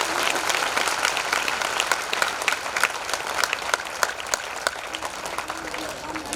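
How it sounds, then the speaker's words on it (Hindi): Loud, sustained clapping fills a hall at a Buddhist Dhamma assembly in Parbhani, an even wash of many hands applauding at close range without a break. "जोरदार एक बार तालियां।"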